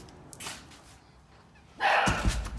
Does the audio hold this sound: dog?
yes